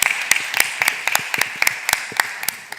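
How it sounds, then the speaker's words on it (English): Audience at a philanthropy plenary session clapping in a sparse round of applause, individual sharp hand claps spaced irregularly and fairly close, with no talking over them. "So give them a round of applause."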